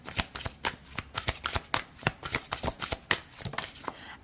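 Oracle cards being shuffled by hand, a quick run of crisp papery riffles and flicks in an uneven rhythm, close and clear with no talking.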